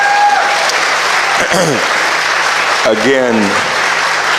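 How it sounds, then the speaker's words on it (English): Applause from an audience at a presidential candidates forum, dense steady clapping heard under a voice that speaks briefly twice. "Give a round of applause."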